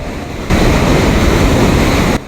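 Ocean surf at Newquay, England, during a 1983 professional surfing competition: a loud, close rush of breaking waves with heavy wind buffeting the microphone, swelling in abruptly and holding steady before dropping away.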